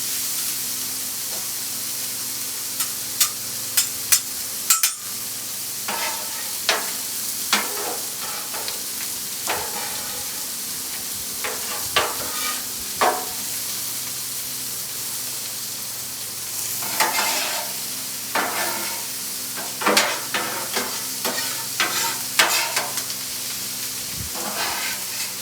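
Beef bacon and corn frying on a Blackstone griddle, a steady sizzle and hiss throughout with intermittent scraping stir clicks from a spatula, close and moderately loud, no talking.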